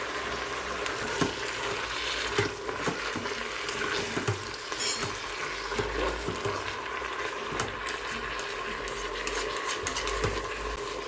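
Pork stew ingredients sizzle and fry in a Tefal One Pot while being stirred, a steady close crackle with soft scraping strokes running throughout, and no talking.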